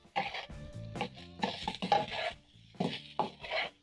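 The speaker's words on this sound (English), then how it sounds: "Stir in the salt into the potatoes." A utensil stirs breakfast potatoes and sausages in a pan after salt goes in, giving close, irregular scraping and clinking strokes in short bursts.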